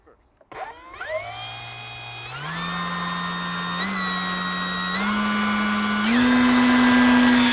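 The electric motor of a HobbyKing Avois Kobuz sports-scale aerobatic RC glider on 4S power spools up to about 70% throttle. Its whine climbs in clear steps to a steady, rising high-pitched drone.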